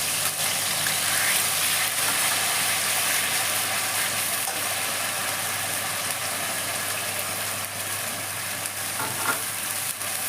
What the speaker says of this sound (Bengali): পেঁয়াজটা দিয়ে দিচ্ছি।